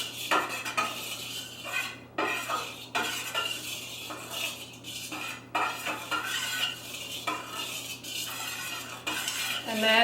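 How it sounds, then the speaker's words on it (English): Lye solution is stirred into oil with a spoon in a container, a close, brisk metallic scraping and clinking in a quick repeating rhythm that runs the whole time. "I'm just going to mix it with the spoon."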